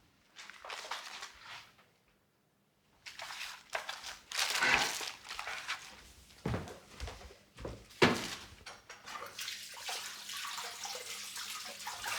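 Water pours and splashes into a pot in several bursts with brief pauses, amid clattering and handling sounds close by.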